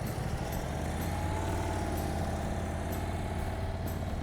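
A motorcycle engine held at steady high revs while a rider practises clutch control, a continuous near drone with no voices over it.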